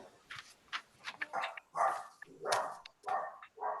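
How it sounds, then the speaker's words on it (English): A puppy barks in a series of short, sharp yips and whimpers, about a dozen in quick irregular bursts, fairly faint and in the background with no talk over it. "Somebody's puppy's barking."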